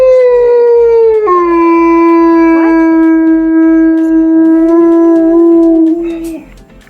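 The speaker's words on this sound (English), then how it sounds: "Lastly, a howl." A single long, loud dog howl, drawn out on a steady pitch that dips once and then trails off near the end, with no other sounds.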